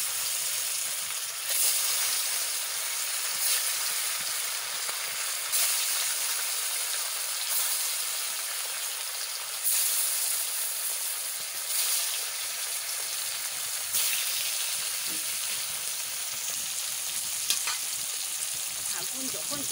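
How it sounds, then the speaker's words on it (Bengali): Fish frying in a pan sizzles and hisses loudly and without a break, with occasional sharper crackles and spits from the hot oil. "মাছ ভাজা বসাই দিচ্ছি,"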